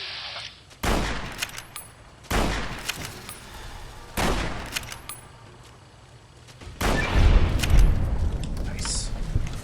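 Gunfire in a Fallout New Vegas fight, with a companion named Jessica shooting, comes as a few heavy booming shots spaced a couple of seconds apart, then a longer rumbling barrage, all loud and close.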